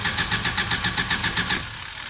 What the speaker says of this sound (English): Let's crank it over, the key's on.